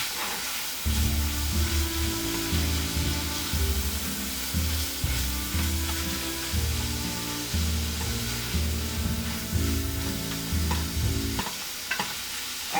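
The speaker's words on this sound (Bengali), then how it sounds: "এটাকে এখন আমি এই পেঁয়াজের সঙ্গে মিশিয়ে ভালোভাবে ভেজে নেব" Ground spice paste is fried with onions for a coral fish do-pyaza, a steady close sizzle under continuous scraping and stirring strokes of a spatula, with a louder clatter near the end.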